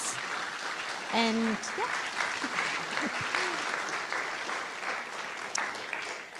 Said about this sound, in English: So a round of applause, please, for our speakers.